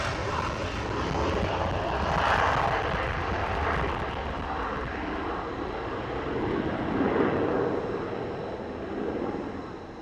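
An F-22 Raptor fighter jet takes off and climbs on full afterburner at RAF Fairford, a broad, steady roar swelling and rolling over ten seconds from some distance.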